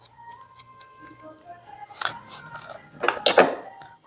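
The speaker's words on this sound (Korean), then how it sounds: "밑에 들어서 커트 해주시고" Scissors snip through hair during a layered see-through haircut in a salon. Crisp, close blade snips come in a quick regular series, then turn into denser, overlapping cutting and rustling toward the end, with no talk over them.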